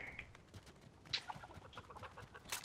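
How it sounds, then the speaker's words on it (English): A chicken clucking after popping out of a vending machine in the Fortnite video game, a few quiet, short clucks and squawks, clear of any talk. "chicken came out of the vending machine?"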